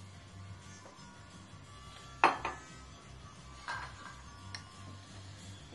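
A spoon scraping and knocking in a pot of thickening vegetable stock, with a couple of sharp metallic clinks and a softer scrape. Kitchen background noise runs underneath and no one talks.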